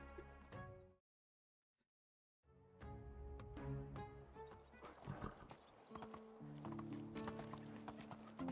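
Donkey hooves clip-clopping in a video game, a busy run of hoof clatter and whinny-like calls with game music, broken by a second of silence before the steps resume.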